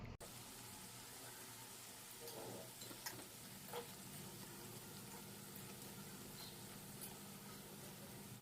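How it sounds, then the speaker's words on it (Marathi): Vegetable tikkis fry in oil in a kadhai, giving a faint, steady sizzle with occasional soft stirring clinks, heard alone without talk. "आता दोन्ही साईडने टिक्की आपल्याला व्यवस्थित तळून घ्यायची आहे"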